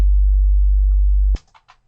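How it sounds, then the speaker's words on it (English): Pure low sine wave test tone, loud and steady for over a second before cutting off abruptly, then faint, brief noises trail after it. "Just a pretty simple sine wave."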